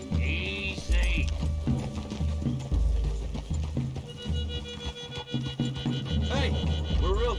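Horse hooves clip-clopping in Red Dead Redemption 2, a steady rhythmic plodding through woodland, close and fairly loud with voices talking over parts of it and a brief whinny.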